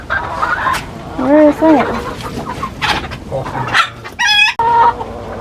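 Hens clucking and squawking close by in a homestead chicken coop during egg collection, with loud bursts of calls and a sharp squawk, while a person speaks briefly over them.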